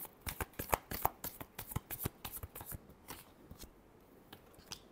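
Tarot cards being shuffled by hand, a rapid run of crisp riffling snaps and soft slides, close and fairly quiet, with no talking over it.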